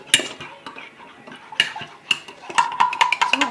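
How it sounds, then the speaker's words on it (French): A spoon stirs mug cake batter with sugar in a ceramic mug, giving a run of close, sharp clinks and scrapes against the sides that grow quicker toward the end. "On va mélanger."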